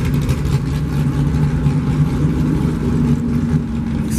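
An Aston Martin at a cars and coffee meet in Tucson gives a steady, close, low engine rumble and hum that holds evenly throughout with no voices.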